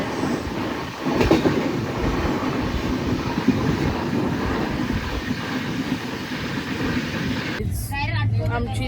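A train rolling steadily on a long-distance journey, a continuous loud rumble with rhythmic clatter of the carriages, briefly broken near the end by a short burst of nearby voices.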